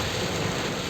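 Heavy typhoon rain pours down in a dense, unbroken roar, loud and close, with no voices.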